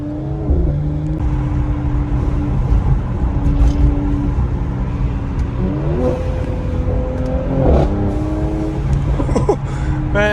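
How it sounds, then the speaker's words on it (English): Loud, close engine of a 2020 Mercedes C43 AMG with 4MATIC all-wheel drive, rising through the revs with audible shift breaks near six and eight seconds, from inside the car, continuous and dense with a few sharp cracks. "the pops and the gear changes on this thing are insane"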